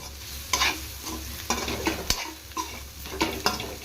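Vegetable fried rice stir-fried in a pan, a spatula scraping and tossing in repeated strokes over a steady sizzle, close up with no voices.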